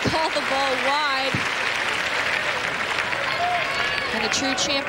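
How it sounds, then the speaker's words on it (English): Tennis crowd at the 1998 Acura Classic ladies singles final shouting to call a ball wide, a sustained roar of voices with yells rising out of it, loud and continuous throughout. "The crowd trying to call the ball wide"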